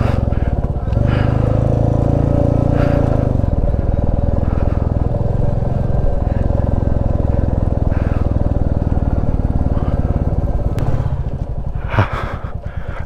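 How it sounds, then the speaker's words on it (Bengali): A motorcycle engine-brakes down a steep mountain road near Pelling, Sikkim, giving a loud, continuous low engine drone close to the rider. Wind buffeting and a few clattering knocks come through it. "ইঞ্জিন ব্রেক করতে করতে নামতে হচ্ছে"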